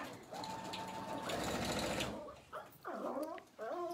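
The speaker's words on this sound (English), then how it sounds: "He just has to sew around in a box." Sewing machine stitching around a pillow case in a box pattern, a close, steady whirring run that stops and restarts in short bursts, with faint dog whimpers and sounds nearby.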